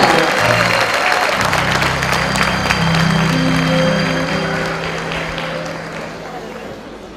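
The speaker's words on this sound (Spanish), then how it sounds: "Le brindamos un aplauso a los alumnos ya licenciados y los invitamos a bajar del escenario." A crowd applauds graduating eighth-grade students at a 2018 school graduation ceremony at Escuela Enrique Zañartu Prieto. The dense, steady clapping fills the hall for the whole stretch, with a low tonal hum underneath, and fades slightly near the end.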